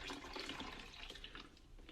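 Water poured into a coffee maker's reservoir through a small fill hole, a faint continuous trickling and gurgling stream close by with no talk.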